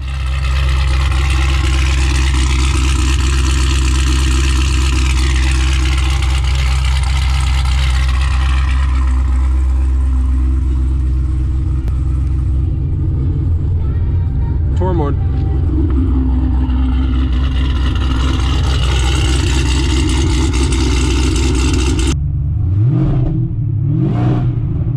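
A car fitted with a loud aftermarket exhaust, tested under California's AB 1824 exhaust law, is revved hard from close to the tailpipe, roaring and rising in long sustained pulls before dropping back near the end.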